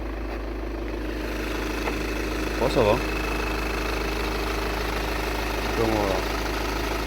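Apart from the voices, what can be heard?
Golf 6 GTD 2.0 litre 170 hp diesel engine idling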